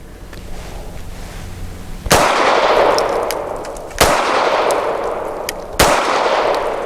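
Shots from a Tisas Zigana PX-9 G2 9mm pistol at a range: three sharp, loud reports spaced about two seconds apart, each trailing a long echoing decay over steady background noise.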